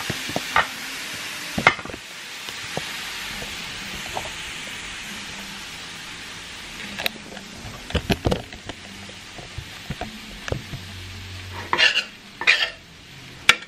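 Taco meat sizzling in a hot pan is mashed and stirred, a soft continuous frying hiss broken by scraping utensil strokes and a few sharper knocks, close and moderately loud.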